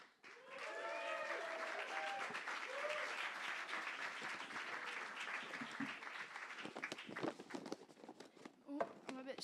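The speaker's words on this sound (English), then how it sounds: "give a massive round of applause for Laura" Audience applause welcoming a performer at a live show, a sustained wash of clapping and cheering with voices calling out over it, thinning toward the end as a performer begins speaking.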